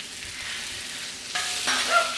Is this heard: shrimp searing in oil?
yes